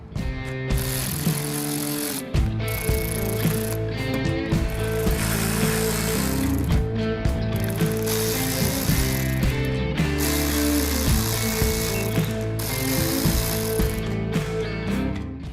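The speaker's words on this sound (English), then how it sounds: "Now go ahead and remove these 6T20 Torx screws," Ratchet backing out six T20 Torx screws from the tailgate bezel of a 2019-or-later Chevrolet Silverado/GMC Sierra 1500: repeated rhythmic clicking and mechanical whirring bursts, close and loud, with short pauses between screws and no talking.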